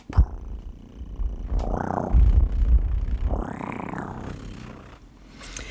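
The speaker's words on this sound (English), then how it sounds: "the audio pickup heard a distinct throbbing, purring" A low, rumbling purr swells in two slow waves, close and throbbing, with faint rustling around it.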